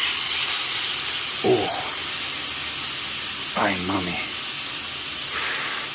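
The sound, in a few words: steak sizzling in hot pan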